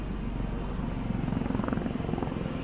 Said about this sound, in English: The helicopter's come back!